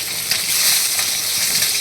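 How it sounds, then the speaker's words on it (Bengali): Chital fish pieces fry in hot oil until crisp, giving a steady, close, dense sizzle with constant bubbling crackle and no talk. "এবার এগুলোকে ভালো করে কড়া করে ভাজা করব।"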